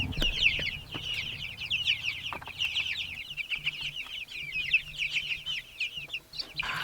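Several young chickens on a homestead cluck and cheep in quick, overlapping calls, fairly close and continuous, with occasional soft knocks and handling noises.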